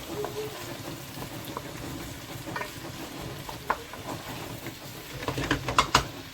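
Chopped onion frying in about five to six tablespoons of oil, a steady sizzle with scraping stirs and small pops that grow louder and busier toward the end.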